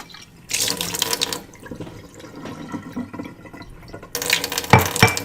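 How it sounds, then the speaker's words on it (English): Water dumped out of a glass into a sink, two bursts of splashing and pouring separated by quieter trickling, close and fairly loud, with no talking. "I'm going to dump this out and put some of the magic water in there."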